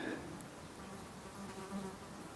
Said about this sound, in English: I can hear the flies buzzing